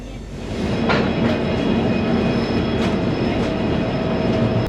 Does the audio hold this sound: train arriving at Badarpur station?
yes